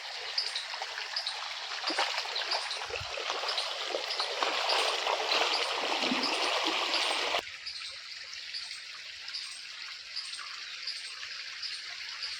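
Irrigation water flowing across a yard, a soft steady trickle and gurgle that runs throughout, slightly fuller in the first half and quieter after a sudden drop.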